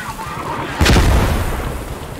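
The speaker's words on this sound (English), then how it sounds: "They're mortaring our fob." A heavy mortar blast in the video game Post Scriptum lands close by, a deep booming impact rising out of steady rumbling battlefield noise and fading slowly.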